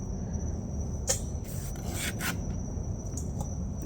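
Raw pumpkin rubbed against a hand grater for pumpkin bread, giving a few rough rasping strokes, close and fairly loud over a steady background hum, with no talk.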